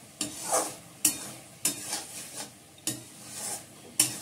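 A vegetable curry with mustard paste is stirred as it fries in a pan. Regular scraping strokes come about every second over a soft sizzle, close and fairly quiet, with no talk.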